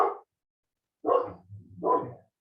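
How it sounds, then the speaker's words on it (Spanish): A dog barks nearby in a quiet room: one short bark, a pause, then two more close together with a low rumble between them. "Sí, mi perro."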